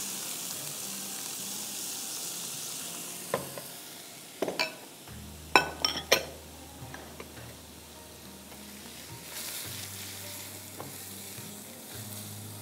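Chopped onions frying in a pan with ginger and garlic for pav bhaji, a steady close sizzle with a few sharp pops and spatters midway, no voices.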